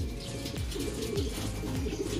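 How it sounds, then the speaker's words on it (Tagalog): Racing pigeons coo softly while arriving back at their loft after a training flight, with low, repeated throaty calls at a distance and a faint background hum. "So parating na rin po halos niyan yung mga ibon natin."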